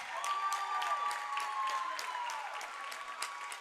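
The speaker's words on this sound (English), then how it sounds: "a round of applause still coming from the BTA faithful" Scattered applause from basketball fans rolls on steadily in an indoor arena after a high school boys' basketball game ends, with a faint tonal sound gliding underneath.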